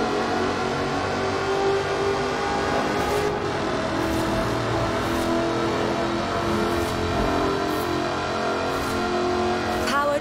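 A supercharged 5-litre V8 in an aluminium-bodied British sports car revs and drives in Forza Horizon 4, a loud continuous engine roar with a few sharp transient clicks and a voice talking over it.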